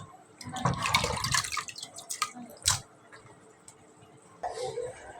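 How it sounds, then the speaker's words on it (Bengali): Loitta fish are rinsed and sloshed in water, giving irregular splashes and drips in short bursts with quiet gaps between, close by. "এখন আমি ভালো করে 3-4 বার করে ধুয়ে নিচ্ছি মাছগুলোকে"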